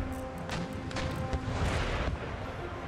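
Ship cannons fire in a naval battle in Empire Total War, a dense, loud roll of booming shots and rumbling blasts that overlap across a few seconds.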